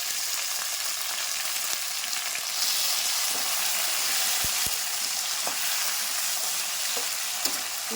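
Chopped tomatoes fry and get stirred in an open pan, a steady hiss with a few soft scrapes of the spoon near the end, continuous and close with no talk.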